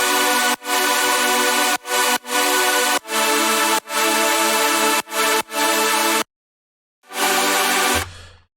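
Layered Havoc saw synths play sustained chords in choppy, gated blocks, loud and bright, with a short silence before a final chord cuts off.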